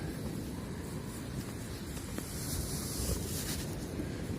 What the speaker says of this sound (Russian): море сегодня шумит как